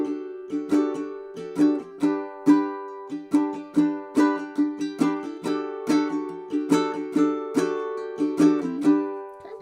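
Ukulele strummed through a chord progression in a steady down-up pattern, close and clear, with rhythmic strokes and ringing chords and no talking.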